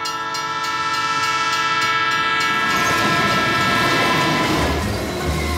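A train horn sounds as a train rumbles past close by, its clattering wheels and roar building loudly before easing slightly.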